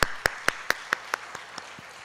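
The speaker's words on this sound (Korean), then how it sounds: "우리 귀한 자매에게 우리 축복의 박수로 우리 격려해 주셨으면 좋겠습니다." A run of about nine sharp claps from a church congregation at an even pace, each one fading quieter than the last, with no voices.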